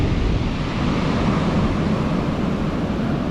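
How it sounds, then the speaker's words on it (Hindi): Surf breaking on Agonda Beach, South Goa, heard as a steady, dense wash of waves near the shore, loud and unbroken, with gusts of wind rumbling across the microphone and no speech. "लहरों की आवाज़ें हैं यहाँ पर।"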